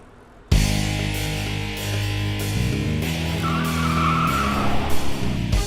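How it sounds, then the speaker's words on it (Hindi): A car turning sharply with its tires skidding and squealing, a loud continuous engine roar starting abruptly and holding steady, with rising screech near the end. "बाबू खान, जरा गाड़ी मोड़ो।"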